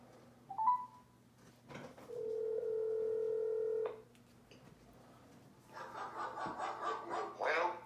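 A telephone handset gives a short beep, then a steady dial tone holds for about two seconds before cutting off, followed by a quick burst of keypad dialing tones, close and clear in a quiet room.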